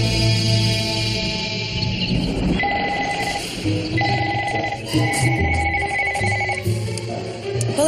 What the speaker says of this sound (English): The phone doesn't stop ringing.